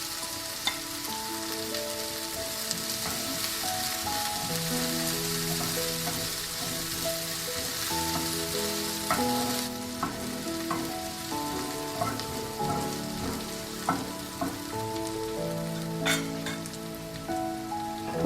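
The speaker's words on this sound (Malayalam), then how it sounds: "കുറച്ച് കറിവേപ്പില കൂടി ചേർക്കാം." Curry leaves fry in hot ghee or coconut oil with onions in a pan for a Kerala karimeen dish, giving a steady, close sizzle and crackle with occasional stirring clinks throughout, no voices.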